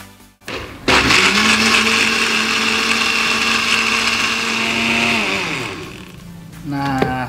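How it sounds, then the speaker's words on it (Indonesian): An Idealife blender grinds soybeans with a loud, steady motor whine for about five seconds, then winds down and briefly restarts near the end. "Kita memblender menggunakan blender dari Idealife."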